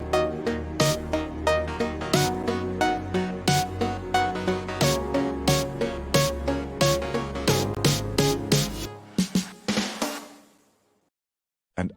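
Synth chord progression for an EDM build-up made in FL Mobile, with sustained harmonic chords under steady rhythmic drum hits that accelerate, then a few final stabs before the sound cuts to silence; no talking.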